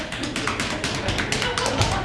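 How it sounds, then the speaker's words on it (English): A man beats his chest, producing a rapid series of dull taps and thuds, close and moderately loud, with a little voice mixed in. "He would beat his chest."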